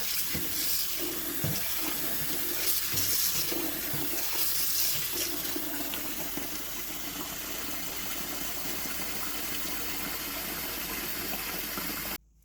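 Running water splashes and swirls continuously as beans for moi moi and akara are rinsed in a sink, with occasional knocks and sloshes, close and steady, ending abruptly.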